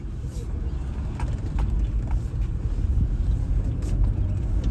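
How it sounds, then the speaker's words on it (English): An Amazon delivery truck drives by on the road, producing a steady, fairly loud low engine and tyre rumble that swells slightly and holds throughout. "Here's your Amazon truck."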